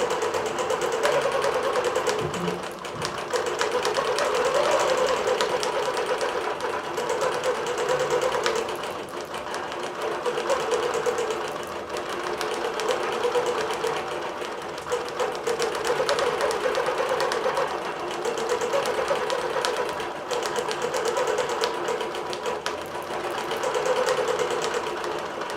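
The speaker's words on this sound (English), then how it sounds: "We're working on a Bernina Q24 on an extended frame, which means we can do up to king size quilts." A Bernina Q24 longarm quilting machine on an extended frame stitches a king-size quilt, giving a steady rapid mechanical whir with a fast needle rhythm that runs unbroken and fairly close, with no voices.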